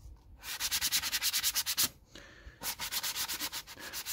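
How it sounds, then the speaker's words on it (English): A plastic motorcycle mirror is hand-sanded with 240 grit sandpaper to remove a scratch, heard as a fast, steady run of close back-and-forth rasping strokes with one brief pause. "Keep sanding till all will be gone."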